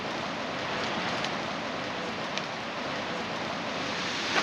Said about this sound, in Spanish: Está lloviendo bastante.